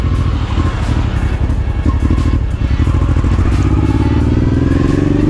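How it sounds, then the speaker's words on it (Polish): A Honda XL650V Transalp motorcycle engine, after caliper, clutch and exhaust manifold work, runs close by with a loud steady idle, its rapid even firing pulses producing a rhythmic throb with a light mechanical clatter on top. "sama praca motocykla jest już zupełnie inna."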